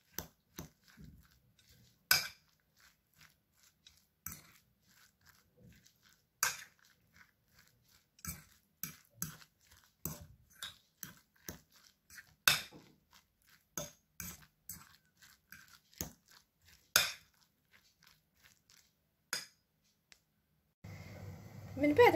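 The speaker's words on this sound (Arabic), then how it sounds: "وغنخلطو جميع العناصر" A utensil clinks and taps against a bowl while ingredients are mixed for an eggplant dish, making sparse, irregular clicks scattered over a quiet background, close by and fairly soft.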